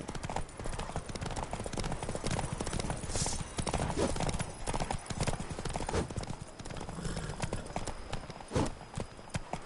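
Rapid clip-clop of Roach, Geralt's horse, galloping in The Witcher 3 game, hoofbeats steady and close throughout with a brief whinny, over a dense game soundscape.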